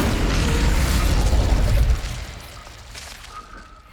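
An Incendio fire spell in Hogwarts Legacy on PS5 bursts out as a loud, dense roaring whoosh of flame that holds for about two seconds, then drops to a softer crackling tail.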